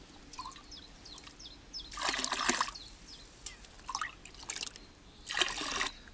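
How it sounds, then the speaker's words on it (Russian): Fresh water trickles and drips into a dug water pit, soft intermittent gurgles and small splashes arriving in irregular bursts against a quiet background. "Видно, как поступает свежая вода."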